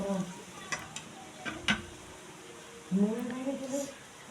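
Biryani meat and potatoes being stirred in a home kitchen pot, with soft scraping and a couple of sharp knocks of the spoon against the pot's rim, under quiet sizzling, while a voice speaks partway through.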